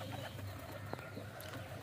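Caged pigeons, breeding females, cooing softly at a steady low murmur, with a faint brief flutter and slight clatter partway through, moderately close in a quiet setting.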